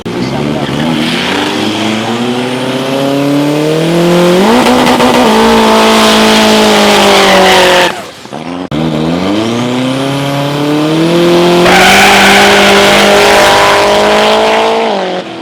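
Loud, close Volvo 245 race car on street tires at a Swedish street racing event on a slippery course, engine revving hard through rising gear pulls, a short lift between two long climbing runs, tires squealing.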